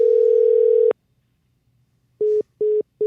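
A telephone line gives a sustained tone after a call is hung up, then falls silent before three short evenly spaced beeps of a disconnect signal, loud and clear with no talking.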